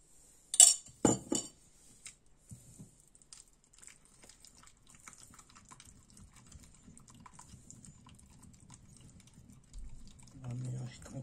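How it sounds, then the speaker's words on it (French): A gentle stir of homemade pesto sauce, opening with a few bright utensil clinks against the bowl, then a soft, low, continuous scraping churn at close range. "On va mélanger tranquillement."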